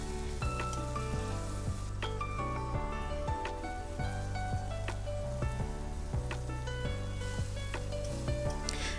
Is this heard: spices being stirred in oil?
yes